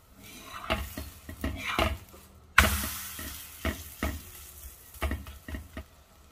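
Spinach dosa batter sizzles on a hot pan, a close frying hiss that bursts loudly partway through, mixed with repeated scraping and clinks of a spatula against the pan.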